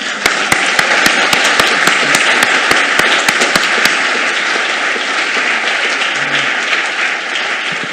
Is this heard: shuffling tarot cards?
no